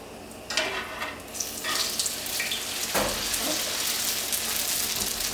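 Chicken and vegetable egg rolls are laid into a hot pan, and a burst of sizzling follows. Scattered clicks and knocks of handling rise over the crackle, which then settles into steady, close frying.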